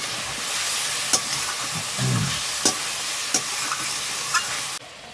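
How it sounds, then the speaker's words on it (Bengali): Fried potatoes and spices for a duck egg curry sizzle steadily in a pan, with a dense frying hiss throughout and several sharp scraping stirs, close up and with no voices. "এখন এই মশলাগুলোর সঙ্গে কষিয়ে নেব।"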